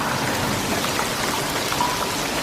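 Floodwater rushing steadily at the entrance to Clark, Pampanga, a dense continuous wash of flowing water with no break across the whole stretch.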